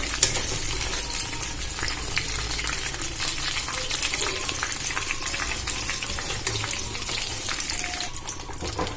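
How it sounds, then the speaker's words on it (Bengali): Steady, dense sizzling of battered soybean chunks frying in hot oil, with occasional clinks and stirring, continuous and fairly loud throughout with no talking. "একইভাবে বাকিগুলো ভেজে নেব"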